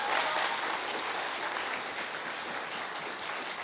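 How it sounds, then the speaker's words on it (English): Audience applause at a Python conference lightning-talk session, steady dense clapping from a large crowd filling the room for a few seconds without a voice over it. "So if we could give him another round of applause"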